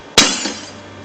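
A defective hand-made Waterford crystal glass is smashed, producing one sharp, loud close crash followed by a short ringing scatter of glass fragments.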